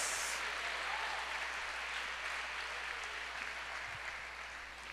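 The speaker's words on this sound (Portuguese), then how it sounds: "Dê um aplauso ao Senhor" A church congregation applauds steadily for the Lord, a dense wash of clapping from many hands that carries on throughout and slowly fades toward the end.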